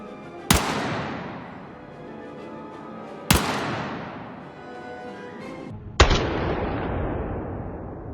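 Three pistol gunshots in the video game Battlefield 6, each a sharp, loud crack followed by a long decaying echo, spaced a few seconds apart with quiet between them.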